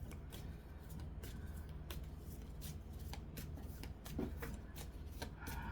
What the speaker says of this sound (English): Oh, I hate these long shuffles.